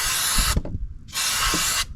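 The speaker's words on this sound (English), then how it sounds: "But I'm gonna spray her down in there" Two long bursts of aerosol cleaner hissing up close as it is sprayed into an engine's throttle body, separated by a short pause with faint knocking and handling noises.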